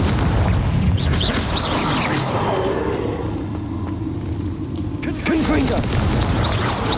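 A Confringo explosion spell fires in Hogwarts Legacy, loud booming blasts and rumbling over a dense mix of game noise, with a second heavy burst later and voices talking under the action.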